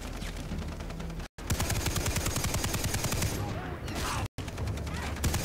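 Rapid machine-gun bursts in the video game Far Cry 3, loud and dense with sharp, evenly spaced shots that run almost the whole time, broken by two brief silent gaps, with game sound layered underneath.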